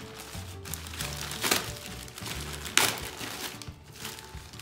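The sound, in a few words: courier company's plastic bag being opened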